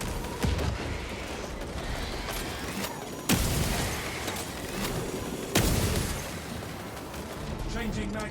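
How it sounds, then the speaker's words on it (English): Shock grenade detonations in Warhammer 40,000: Space Marine 2, two sharp loud bursts a couple of seconds apart over constant roaring battle noise and talk. "Shock grenade!"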